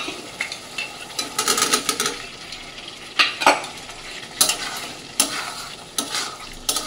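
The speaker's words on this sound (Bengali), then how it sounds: "এবার ভেজে রাখা আলুটা আমি এর মধ্যে দিয়ে দেবো।" Fried potatoes are stirred into sizzling masala for vegetarian aloo dum, with repeated sharp clanks and scrapes of a metal spoon against the pan over a steady frying hiss, loud and close.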